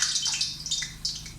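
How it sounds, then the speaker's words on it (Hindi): Chopped onions go into boiling water, which bubbles, splashes and trickles in a steady wet hiss close at hand. "आप उस तरह कटिंग करके भी प्याज को इसी तरह पानी में डाल दीजिएगा"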